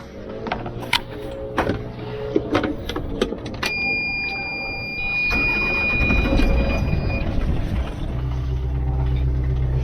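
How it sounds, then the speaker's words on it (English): A sailboat's engine cranks and catches, then settles into a steady low idle, with a few clicks and electronic beeps from the controls just before it fires up. "So I'm gonna warm up the engine and move."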